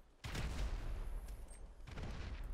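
Dense bursts of explosions and rapid gunfire from a Grand Theft Auto V match, a sustained loud barrage that starts abruptly and keeps rolling, with a second surge of blasts near the end and no talking.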